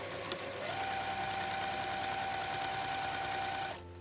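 A sewing machine runs one steady, continuous stitching pass while sewing a 5 mm seam through bag fabric. It is close and even for about three seconds, then stops abruptly.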